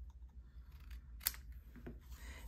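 Scissors cut through paper card in a quiet room, giving a single crisp snip followed by a few faint rustles and small clicks.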